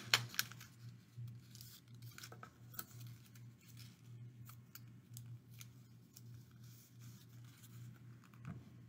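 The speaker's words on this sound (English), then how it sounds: "then secure with a tape so that it doesn't open" Tape being torn off a roll to secure a rolled paper handle for a paper helicopter propeller, faint scattered rips and crinkles in short bursts, close and quiet.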